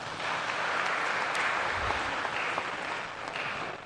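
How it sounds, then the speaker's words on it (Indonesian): A church congregation at a Sunday Lenten Mass gives a choir a sustained round of applause, a dense steady clatter of many hands filling the hall for several seconds. "Kita beri aplaus untuk mereka."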